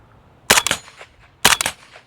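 PSA Krink rifle in 300 Blackout firing 150 grain hand loads, two sharp, loud close-up shots about a second apart, each followed by a short rattle of echoes.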